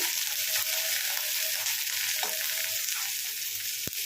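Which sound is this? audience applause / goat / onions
onions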